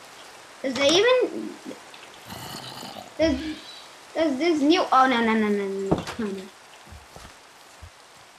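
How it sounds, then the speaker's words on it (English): Steady rain hiss in the video game Minecraft, falling outdoors beside a house, runs faintly beneath a player's intermittent talking. "I literally just came outside of my house and it's raining"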